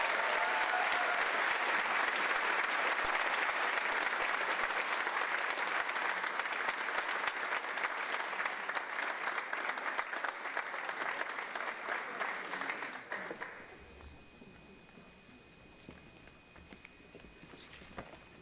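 A school audience at the UHS Contio 2022 ceremony applauds scholarship winners, loud sustained clapping that thins and drops off sharply after about thirteen seconds, leaving faint room noise and a few stray claps.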